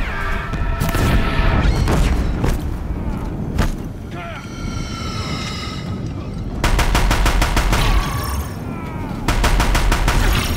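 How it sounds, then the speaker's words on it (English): Deathbringer war machines in Horizon Zero Dawn unleash loud, sustained machine-gun fire in rapid bursts with booming impacts and crashes, the barrage pausing briefly before resuming with another dense volley. "the Deathbringers keep firing, this bridge will go"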